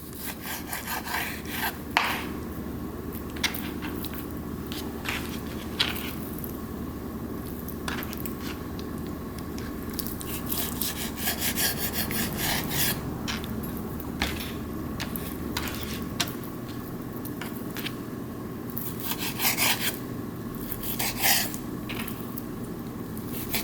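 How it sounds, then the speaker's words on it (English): A knife slices through bacon on a cutting board while bacon is prepared for a Southern green bean casserole, giving a steady run of close, scraping, sawing strokes with small sharp clicks and no talking. "So I'm gonna go ahead and cut this bacon up and get it sliced."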